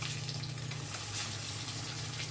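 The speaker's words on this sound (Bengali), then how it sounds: "অনবরত ওলট পালট করে দিতে হবে, যাতে খুব ভালো করে মাছটা ভাজা হয়ে যায়" Fish fries in a pan with a steady, crackling sizzle, faint but constant throughout, with no talk over it.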